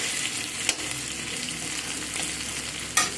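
Onions and capsicum fry in a pan for a winter-vegetable fried rice and chilli chicken, giving a steady close sizzle with two sharp stirring scrapes, no talk.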